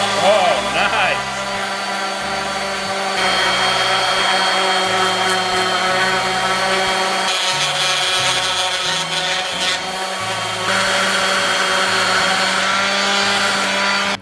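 A power sander with 150-grit paper works over a boot jack, a loud continuous whirring grind throughout with slight shifts in pitch as pressure changes.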